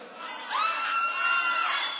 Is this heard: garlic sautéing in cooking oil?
no